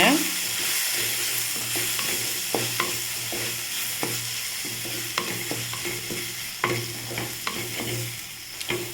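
Chicken fries with chicken masala, garam masala and curry masala powders for kothu chapati. A steady sizzle runs under frequent scraping strokes of a spatula in the pan, and no one speaks.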